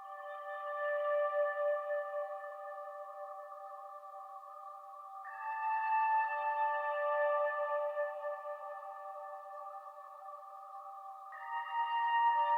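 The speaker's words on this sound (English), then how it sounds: "This is what the pad sounds like." A dark, sustained synth pad holds low chords, shifting up a step midway and again near the end, smooth and droning with no other sounds.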